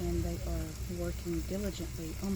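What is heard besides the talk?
No everyday noise stands out behind the speech.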